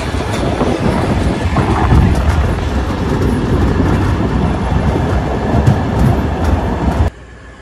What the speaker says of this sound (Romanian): Locomotiva CFR Marfă face manevre aici în stația